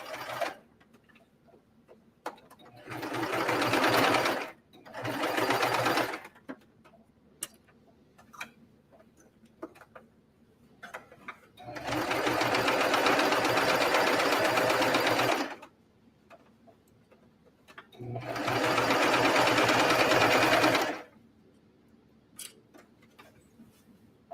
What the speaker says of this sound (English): I'm just double checking that it's sewing exactly how I want.